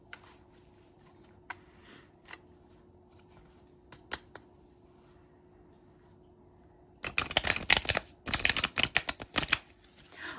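Tarot advice cards being shuffled, first as a few soft isolated flicks and taps, then two bursts of rapid riffling close to the microphone near the end, with no talking.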